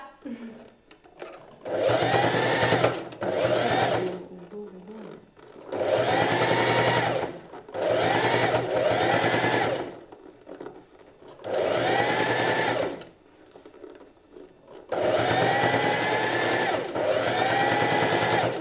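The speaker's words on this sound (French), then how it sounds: "de le coudre sur le devant de la veste en faisant tout le tour de la même manière" A sewing machine stitches bias binding around the front of a jacket in repeated loud whirring bursts of a few seconds each, separated by short pauses, close by, with brief low voices between runs.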